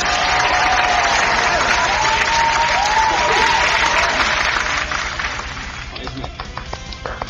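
Loud sustained applause from a crowd at a Tamashii fair event, dense steady clapping with some cheering tones that gradually thins out over the final seconds.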